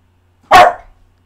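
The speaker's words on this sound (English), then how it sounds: "sometimes you got to put up with the dog" A dog gives a single sharp, loud bark close by, alone in otherwise quiet surroundings.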